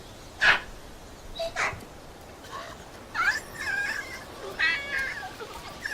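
Several short, sharp monkey calls, harsh and barking, come in scattered bursts with quiet gaps between them, moderately close.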